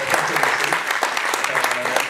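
Steady applause from a conference audience, brisk and fairly close, with voices mixed in beneath the clapping.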